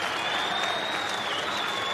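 A crowd of about 5,000 at a college wrestling arena cheers and applauds, a dense, steady roar of clapping and shouting that holds loud and unbroken throughout.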